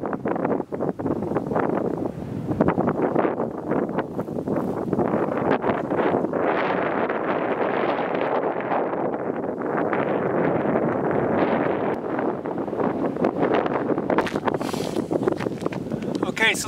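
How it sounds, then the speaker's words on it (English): Strong wind gusting across open fields on Prince Edward Island at sunset, a loud, steady roar buffeting the microphone, rising and falling in force throughout. "So the wind's getting a bit vicious, guys."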